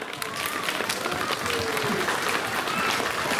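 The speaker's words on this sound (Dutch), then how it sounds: "Geef haar maar even een applaus." An audience at a village-hall Sinterklaas celebration claps steadily, a dense, continuous wash of applause with a few voices calling out faintly within it.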